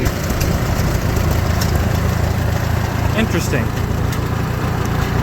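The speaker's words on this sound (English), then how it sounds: "Why is low idle not really low idle?" A Farmall H tractor engine idles close by in a steady low chug that never changes pitch, while someone briefly speaks over it.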